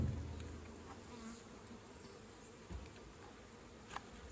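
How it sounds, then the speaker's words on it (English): Honeybees buzz around a swarm-trap hive box, a faint, continuous droning hum with the occasional louder bee passing close. "a bunch of young bees in the hive that they're not really defensive"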